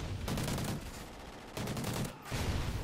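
Sentry guns in a video game blaze away in rapid automatic bursts, three sustained volleys of dense gunfire separated by short gaps, loud and close with no talk over them.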